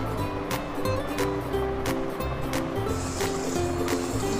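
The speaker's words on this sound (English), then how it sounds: "Now I'm putting finely chopped garlic." Finely chopped garlic sizzles in hot white oil in a pan, a continuous close crackle broken by sharp pops and spits throughout.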